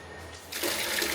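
Water suddenly starts gushing from a campsite restroom tap after a quiet moment, a steady rushing splash close by.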